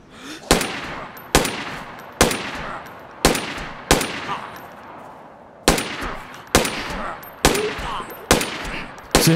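In the video game DayZ, about ten loud, sharp gunshots fire at an uneven pace, each with a crisp crack and a short decaying tail.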